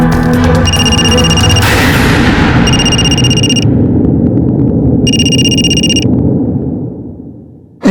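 A phone ringing on speaker after a number is dialed, heard as three loud electronic ring bursts at regular intervals over a low background rumble, with no talking.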